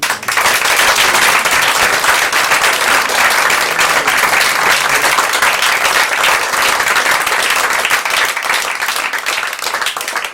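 Sustained, loud clapping from a concert audience, dense and even throughout with no talk over it.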